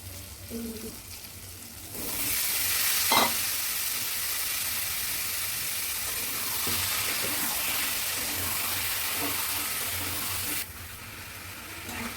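Jackfruit and potato pieces sauté in a pan with a steady, moderately loud sizzle that holds for most of the stretch, with an occasional scrape of stirring and a quieter lead-in and tail.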